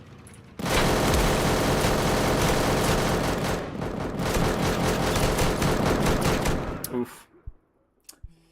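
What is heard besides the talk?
turret gunfire in the video game Deadside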